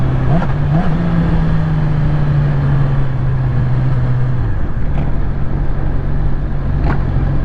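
Strong wind buffets a rider on a 2021 Yamaha MT-07 naked motorcycle, a loud continuous roar with the engine droning underneath and shifting pitch midway.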